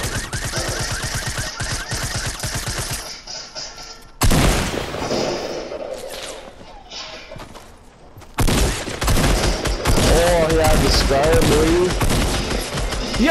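Rapid close-range gunfire in Fortnite, loud repeated shots in fast bursts with sudden breaks and restarts, and players talking over the shooting.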